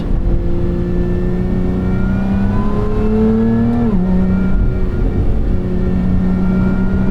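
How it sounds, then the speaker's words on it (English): A Lotus Emira engine in track mode pulls hard and loud, rising in pitch, then drops sharply on a quick aggressive upshift before droning on steadily, no one speaking. "The upshifts are actually nice and aggressive, which I like."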